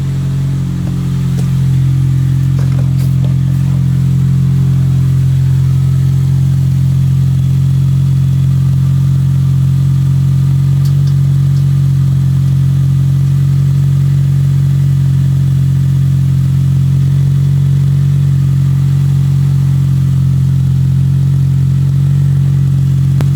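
Toyota Matrix XRS engine running with a GReddy DT exhaust, a loud, steady low rumble that holds nearly constant throughout, close to the tailpipe, with no talking.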